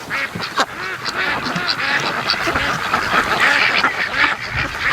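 A flock of ducks quacks loudly and continuously nearby, many overlapping calls in a dense chorus on a windy fall afternoon.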